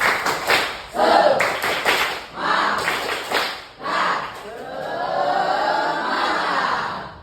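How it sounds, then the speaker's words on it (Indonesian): Classroom children perform a rhythmic 'tepuk semangat' clapping chant, sharp patterned claps mixed with chanted voices, followed by a longer stretch of group chanting, close and lively. "kita tepuk semangat dulu ya"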